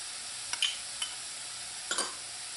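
Garlic and finely minced ginger sizzle in a pan, a steady faint frying hiss broken by a few soft stirring scrapes, with no voices.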